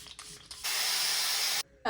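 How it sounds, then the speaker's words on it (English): A single steady hiss of makeup setting spray, close and lasting about a second, misted over a finished face. "we'll just do one last little spritz of setting spray"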